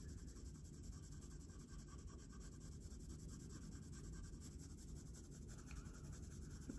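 Light coloured pencil shading on grainy paper, a steady soft scratchy rasp that runs on continuously and close, alone with no voices.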